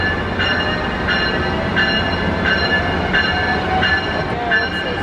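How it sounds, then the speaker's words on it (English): A Metrolink train departing at a Los Angeles rail safety event rumbles loudly nearby, with a repeating rhythmic clacking and a steady tonal whine as it moves along the track. "Well, this train's leaving."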